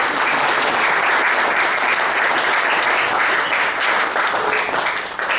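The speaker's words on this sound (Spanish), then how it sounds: "le recibimos con un fuerte aplauso al doctor Oscar Barrera Tamayo" A large audience applauds to welcome a speaker at a philosophy book presentation, sustained loud clapping from many hands that holds steady before easing slightly at the end.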